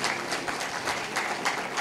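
Applause from a congregation at a sermon, with dense steady clapping and regular swells in intensity, heard alone at moderate loudness.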